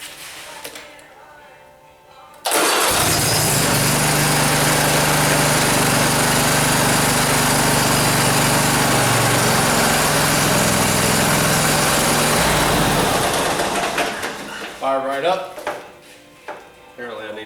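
A Kohler lawn mower engine, fitted with a brand new starter, cranks and catches, then runs loud and steady for about ten seconds before sputtering down, with brief talk afterward.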